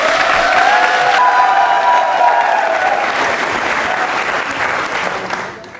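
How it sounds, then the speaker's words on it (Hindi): Studio audience applause fills a Rajasthani TV quiz show broadcast, a dense and loud burst of clapping that carries steadily before tapering off at the end. "तालियां जोरों से बजाइए"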